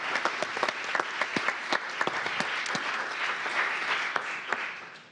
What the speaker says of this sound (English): thank the city staff with a round of applause